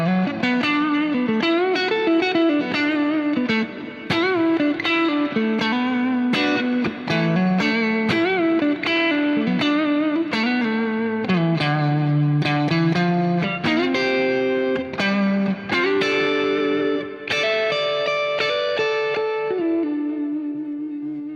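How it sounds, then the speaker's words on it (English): Electric guitar played through a VP4 with a huge coliseum-style reverb, ringing chords and melodic notes washing into long tails, loud and continuous with no talking. "I'm using a VP4, but I'm using a verb that's like a big Coliseum verb because it sounds like those tones."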